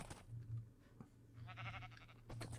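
A brown sheep in the Minecraft video game gives a few short, soft digital bleats near a farm, over a low steady background hum, with no voices.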